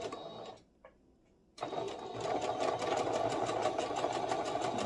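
A domestic sewing machine back-stitches a seam on an oversized tee, running in a rapid mechanical whir, stopping briefly, then starting again and continuing steadily up close.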